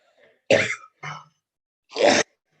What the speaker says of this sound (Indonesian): Nggak tahu sekarang jadi batuk.